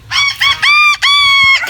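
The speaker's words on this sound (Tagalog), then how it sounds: "So meron dito manok. Ayan, mga manok." Chickens, including roosters, squawking and crowing loudly up close in several quick, drawn-out calls, one after another with brief gaps.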